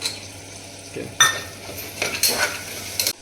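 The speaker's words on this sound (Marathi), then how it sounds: "आता आपण शेंगदाणे टाकतो याच्यामध्ये।" Peanuts are tipped into a pan of soya pulao and stirred, with a close spoon scraping and clinking against the metal pan over a soft sizzle.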